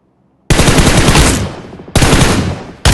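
Loud close bursts of automatic rifle fire in the mobile battle royale game PUBG Mobile, three sustained volleys with brief gaps between them, with no voices over the shots.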